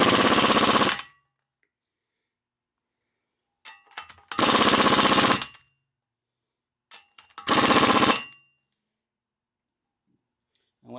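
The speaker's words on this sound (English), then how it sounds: "and then hammer it a little bit with the impact." Three loud bursts of rapid pneumatic hammering from an impact wrench on a nut of a Ford 4000 tractor axle, each about a second long, separated by pauses with faint clicks and handling noises.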